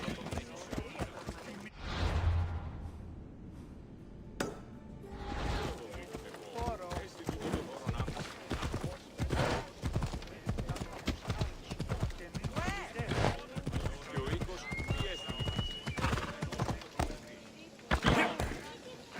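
Horse hooves clip-clop in a steady trotting rhythm while riding in Assassin's Creed Odyssey, with a game soundtrack and voices talking over much of it.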